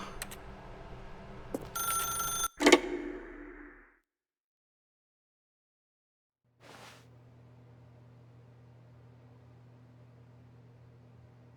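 A telephone rings in a first-person video game, a short burst of loud bright ringing that cuts off, followed by silence and then a faint steady hum.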